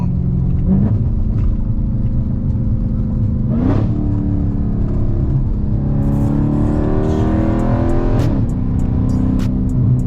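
Car engine and exhaust rumbling loudly while driving on back roads, steady low drone with a few rising revs as the driver gets on and off the throttle, no talking.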